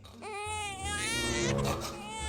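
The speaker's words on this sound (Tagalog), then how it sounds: "Baby, stop crying na." An infant wails in a loud, sustained cry close to the microphone, the pitch rising and breaking into sobbing without a pause.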